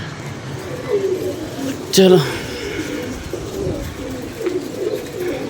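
Low cooing of pigeons nearby, mixed with a brief spoken word and some outdoor background noise.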